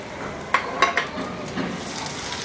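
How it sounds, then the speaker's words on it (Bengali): Chopped ginger frying in mustard oil in a small pan, a soft close sizzle with a few sharp utensil clinks against the pan over about two seconds. "আমি ছোট্ট একটা ফ্রাই প্যানে 1 টেবিল চামচ সরিষার তেল গরম দিয়ে তার মধ্যে আদা কুচিটুকু দিয়ে একটু ভাজবো।"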